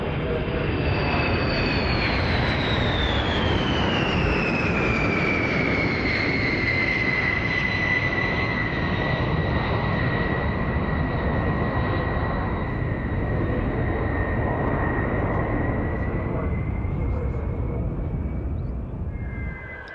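A Rockwell B-1 bomber with wings fully swept makes a high-speed run at about 600 mph at an air show, a loud continuous jet roar whose whine slides downward as it passes, steady throughout.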